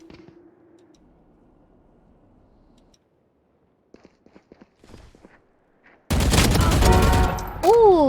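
Loud burst of video game gunfire erupts after several seconds of near silence and a few faint clicks and footsteps, dense and sustained with a rising whine near the end.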